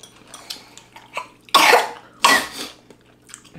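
A young child with a cold coughs twice in loud, close bursts during the cold season, set against quiet indoor background murmur.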